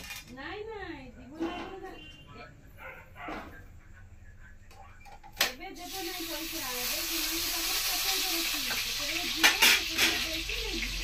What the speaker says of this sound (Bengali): কড়াইটা তো গরম হয়ে গেছে, মাংসের আলুটা ভেজে নেব